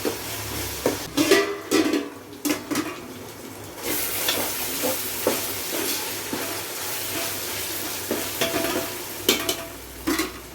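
Golden onions frying with ginger garlic paste in a pot for chicken biryani, a steady hissing sizzle broken by repeated scraping stirs, close and loud, with no voices.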